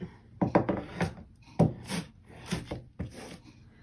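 Wax is rubbed onto a thrifted wooden frame in short, scratchy strokes, close and moderately loud, coming in uneven bursts with no talking.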